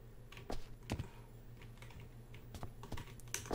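Keyboard key presses while building in the Stranded Deep video game, a few sharp clicks scattered over a quiet background hum, played alone without talk.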